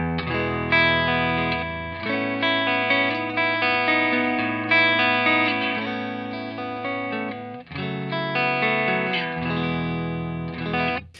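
Electric guitar chords through a valve distortion pedal with the drive turned up to about a quarter, heavier distortion and thicker grit, strummed and left to sustain, with a break partway through before more chords.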